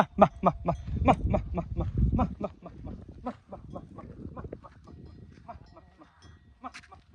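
Sheep of the breed called mahmaq bleat at a farm among goats, with a quick run of short, loud calls first and then scattered fainter bleats, under steady livestock bustle.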